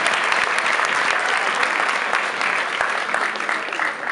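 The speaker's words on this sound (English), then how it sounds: "Give yourselves a huge round of applause," A large audience at a charity foundation launch bursts into sustained, dense applause, loud and steady throughout without letting up.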